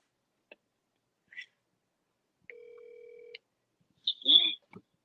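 An outgoing phone call rings once on the line, a single steady electronic ring tone after a few faint clicks, followed by a brief voice answering close on the handset.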